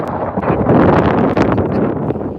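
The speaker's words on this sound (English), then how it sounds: "Oh, it's windy now, I'm sorry" Loud, blustery wind buffets the microphone continuously during an outdoor dog walk in Edinburgh, a rough roaring rumble with no voices heard.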